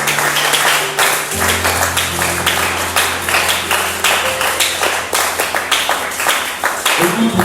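A church congregation claps and applauds steadily throughout a Sunday service, loud and close, with voices and sustained music tones running underneath the applause.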